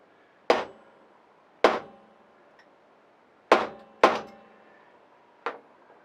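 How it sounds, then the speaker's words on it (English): Hammer blows on the pivot of a FACOM 506a vice grip, five sharp metallic strikes at uneven intervals, each ringing briefly and then decaying into quiet. "I'm going to try the proverbial bigger hammer, see whether it'll move."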